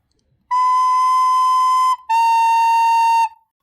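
A beginner's recorder sounds two clear sustained notes played with thumb, index and middle finger, each held about one and a half seconds with a brief gap between, loud, steady and close with no talking.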